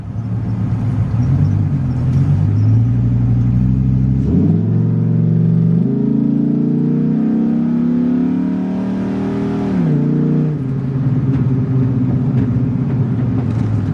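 A Dodge Ram SRT10 or Chevrolet Silverado SS pickup accelerates at half throttle from a rolling start, a deep, loud engine rumble whose pitch climbs steadily, drops with each gear change around four and ten seconds, then climbs again.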